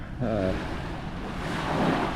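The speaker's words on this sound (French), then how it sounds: "les vagues viennent me tremper" Sea waves washing against a kayak, a steady close rush of water and wind noise with a short voice-like sound near the start.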